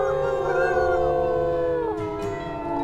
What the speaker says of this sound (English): I am trying to listen for Flint's howl